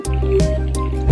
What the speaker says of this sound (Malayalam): കപ്പ വേവുന്നതിന് ആവശ്യമായ വെള്ളം ഒഴിച്ചു കൊടുക്കാം.